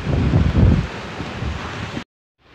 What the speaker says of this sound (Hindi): देख सकते हैं दोस्तों कितना तेज़ हवा चल रहा है यहाँ पे।